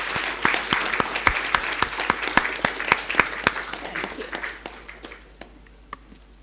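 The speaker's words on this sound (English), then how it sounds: "So please, a round of applause for the wonderful," Conference audience applauds a panel with a fairly thin patter of hand claps, a few sharp individual claps standing out, steady at first then thinning and dying away near the end.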